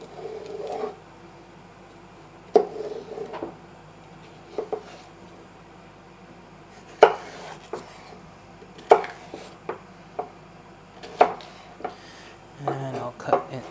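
A kitchen knife finely chops two ribs of celery crosswise on a cutting board for risotto. Sharp, irregular close-up taps ring out with pauses between bursts over a quiet room.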